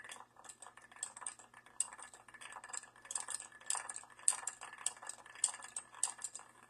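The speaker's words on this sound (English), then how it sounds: "Then you give this a stir with all that concoction in there" A spoon stirs an Old Fashioned made with Ancient Age 80 proof whiskey over ice, giving a run of light clinks and rattles against the glass, close and soft, with bright ticks scattered throughout and no talking.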